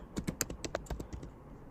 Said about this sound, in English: hit T on my keyboard and I'm going to type new card